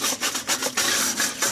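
Rhythmic scrubbing strokes rasp over an Omnia stovetop oven pan to get stuck-on cinnamon roll icing off, loud and close with steady back-and-forth rubbing bursts and no talking.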